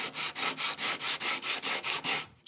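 A wooden marking gauge part is tapered with about ten steady back-and-forth rasping strokes, close and fairly loud, each stroke evenly spaced in a brisk rhythm.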